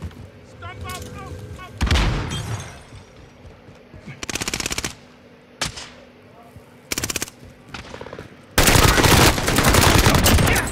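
Gunfire in Call of Duty: Modern Warfare, sharp bursts of automatic fire and single shots in several separate clusters, loud and close, ending in a long sustained volley, with faint game sounds in the gaps.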